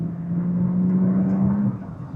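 The twin-turbo V6 of a 2025 Audi S5 accelerates with a smooth, steady droning hum heard from inside the cabin, rising slightly, then easing off, with no talk over it.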